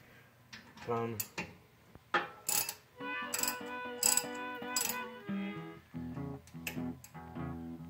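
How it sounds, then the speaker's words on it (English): A socket wrench ratchets while tightening a rear brake bolt on a 2018 Nissan Murano, with bursts of quick clicking mixed with metallic clanks, close by in a garage. "you want to get your socket wrench like this. Make sure it's on tighten and not undo."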